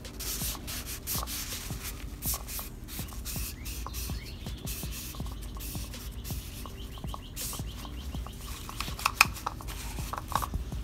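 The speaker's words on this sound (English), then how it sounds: "Now you're going to want to go ahead and clean just all the surface where you're going to put the new gasket at." Rhythmic close rubbing and scraping while the oil filter housing gasket surface of a BMW engine is wiped clean, repeated strokes under faint bird chirps.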